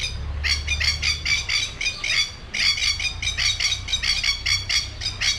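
A black and white bird at a zoo squawks loudly and close by in rapid repeated bursts, pauses briefly, then resumes its harsh calling over a low background rumble.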